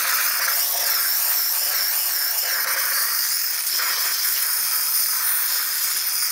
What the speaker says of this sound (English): So right now the machine is on steam mode, so it's up to temperature.